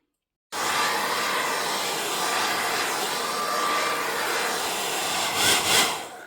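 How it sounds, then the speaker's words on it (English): A hairdryer or heat gun blows steadily at close range over paint, a loud continuous whooshing hum that flutters briefly near the end. "you're going to get your hot gun or your hairdryer again and you're going to give it another whiz over"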